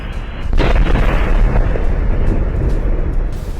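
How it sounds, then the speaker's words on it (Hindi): Explosion at the Valero oil refinery in Port Arthur, Texas: a heavy boom breaks in at about half a second, then a dense, loud low rumble carries on steadily to the end, with no voices. "अमेरिका के राज्य टेक्सास में 23 मार्च को एक बड़ी तेल रिफाइनरी में धमाका हुआ"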